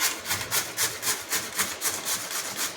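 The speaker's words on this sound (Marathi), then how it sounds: "मी एक भांडं घेते त्याच्यामध्ये किसणीने किसून घेते" A fresh cucumber rubbed against a hand grater over a bowl, fast rhythmic rasping strokes about four per second, close and steady.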